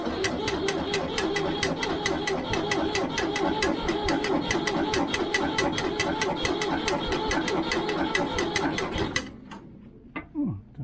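A Ford 3000 tractor engine is cranked by its starter, a fast, even mechanical chatter that runs for about nine seconds and then cuts off, leaving a short quiet with a few faint knocks.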